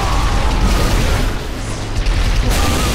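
A grenade blast in a Halo match, a dense, booming low rumble that fills the whole stretch, loud and close with no clear separate bursts and no talk over it.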